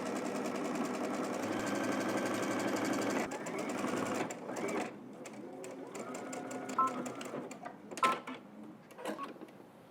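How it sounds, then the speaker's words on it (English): A sewing machine runs a steady top stitch across a garment yoke, giving a continuous close mechanical whir that stops partway through, followed by a few clicks and a brief voice. "we're just gonna head up to the machine and we're going to top stitch all the way across on the yoke side"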